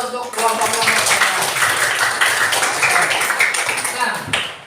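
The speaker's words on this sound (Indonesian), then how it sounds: "Tepuk tangan dulu untuk kelompok-kelompok." Classroom group of students clapping together in a dense, sustained burst of hand claps for several seconds, close and loud, while a teacher talks.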